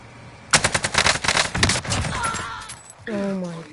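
An AK-47 in Call of Duty Warzone fires a loud, close burst of rapid automatic shots lasting about a second, then quieter game sounds and a brief voice follow.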